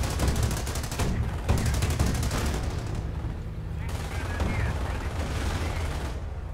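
Rapid gunfire bursts and heavy shots from a Company of Heroes base siege battle, with an anti-tank gun in action, crackling densely and loudly throughout amid low rumbling explosions.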